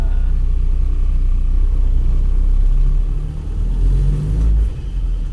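Moderate traffic flows along a city street in Iligan City, a continuous low engine rumble that stays loud and steady, dipping briefly and then surging again near the end.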